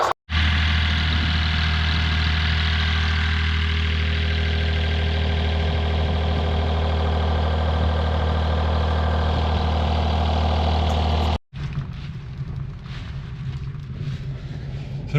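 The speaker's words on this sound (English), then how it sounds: "So bring the revs up and get the pressure up." An irrigation pump's engine runs loud and steady at raised revs with a deep, constant drone, then cuts off abruptly near the end, leaving a quieter background.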